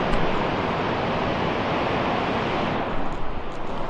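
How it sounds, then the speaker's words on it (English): Ocean waves break on the shore at Baja Mar, Tenerife, a continuous loud roar of surf and churning water with no voices. "let me just show you over here the waves."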